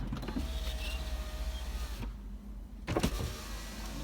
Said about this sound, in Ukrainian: Провірю стеклопідйомники.